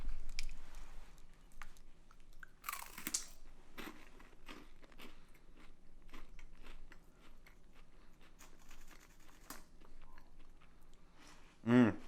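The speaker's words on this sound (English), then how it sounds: "Listen to that crunch." Crisp crunching of a HAPI Bing Bing green tea ice cream cone snack, a layered wafer being bitten and chewed, with repeated close, dry crackles spread through a quiet room and a louder bite near the end.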